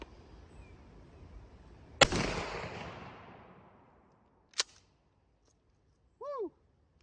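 Mossberg 590 shotgun fires a single round of double aught buckshot outdoors: one loud blast with a long rolling echo, followed by a sharp click and a brief high chirp.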